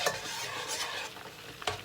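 Marinated chicken satay fries over medium heat in a pan with a close, crackling sizzle. Stirring and scraping sounds come through it in short bursts.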